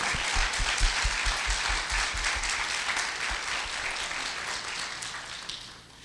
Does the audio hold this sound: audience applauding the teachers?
yes